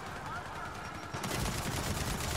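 Rifle fire in Gears of War 4 co-op combat, starting about halfway through as a dense run of rapid shots over a steady, noisy game background.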